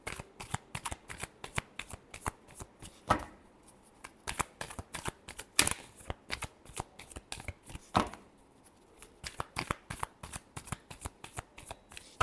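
Tarot cards being shuffled by hand, a rapid run of crisp riffling bursts with short pauses between, close and quiet, with no talk over it.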